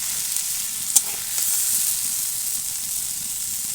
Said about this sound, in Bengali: লাউর খোসাগুলো আমি ভালো করে ভেজে নিয়েছি, দেখুন একদম লাল লাল করে